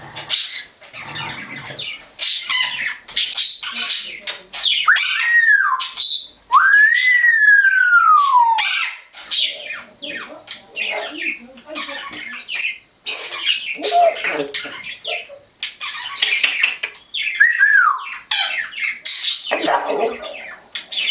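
A parrot squawks and whistles loudly and close by, with a sweeping whistled note and harsh repeated calls running through most of the stretch.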